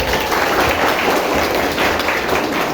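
Students applaud together at a school guidance session led by a police officer, a steady, dense wash of clapping filling the whole stretch without any talking.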